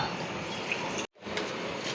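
Water from a glass poured into a pressure cooker over a spicy tempered dal fry base, a steady close splashing pour with a brief break near the middle, no talking.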